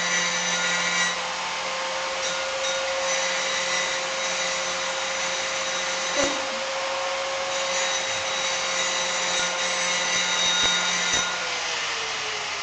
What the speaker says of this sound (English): now there's a grinder working